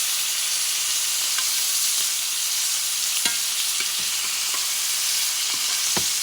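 Teres major steak sizzles loudly in a pan with unsalted butter, a constant close frying hiss broken by small pops and spatters, with no voices.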